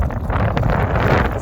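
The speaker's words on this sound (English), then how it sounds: "It's so windy." Strong gusts of wind buffet the microphone, producing a continuous loud rumbling roar with no voices.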